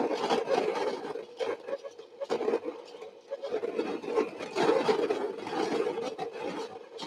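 A coffee grinder's motor runs while clogged with beans above the burrs, giving an uneven, rough grinding and scraping drone that surges and dips throughout, close by with no talking.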